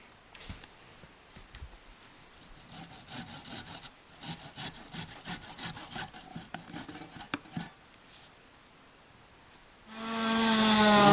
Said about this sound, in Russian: Здесь пилит.